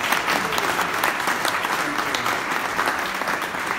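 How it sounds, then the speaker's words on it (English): A crowd claps steadily in dense, sustained applause, fairly loud and even throughout, with no pauses. "Give them another round of applause."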